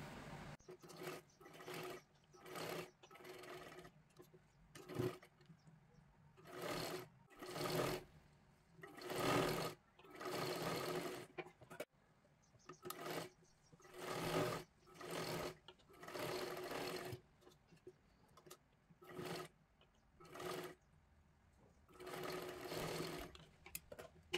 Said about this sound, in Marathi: आता इथे एकदम कडेकडेला आपल्याला शिलाई मारून घ्यायची आहे।